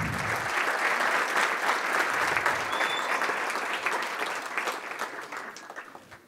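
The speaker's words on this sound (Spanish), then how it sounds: "Damos un aplauso de felicitación a los nuevos doctores del área de artes y" Loud sustained applause for new doctoral graduates in arts and architecture at a university doctoral ceremony, a dense crowd of clapping hands that slowly tapers off.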